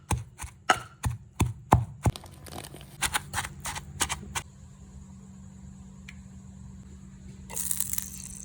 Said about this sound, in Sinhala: ඉතින් මේක හොඳට කොටා ගන්න ඕනේ